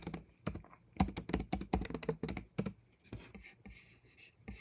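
Keys clatter on a computer keyboard as a search phrase is typed in quick, uneven bursts, close and clear, followed by a softer rustling hiss toward the end.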